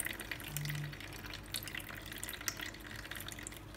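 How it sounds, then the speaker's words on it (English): Celery juice drips and trickles through a sieve, a faint, close patter of small drops and a thin liquid stream running continuously at low level. "the juice is pouring nicely. So I'm gonna go ahead and let it sieve."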